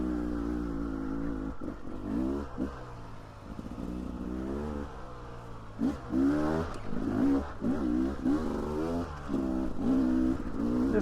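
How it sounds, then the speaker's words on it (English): A dirt bike motorcycle engine while riding off-road on a trail, revving up and down repeatedly with throttle surges, loud and close, with rumbling and clatter between the revs. "This bike is acting way better"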